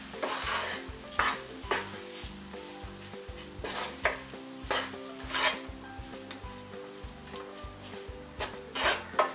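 Spoon stirring spices in a hot pan for a tomato and green pea pickle, rhythmic scrapes and clinks against the metal over a soft sizzle, close and quiet.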